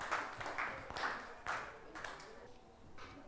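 A school class claps hands together in a quick, rhythmic pattern during a Grade 6 science lesson, with about seven sharp, even bursts that fade slightly toward the end.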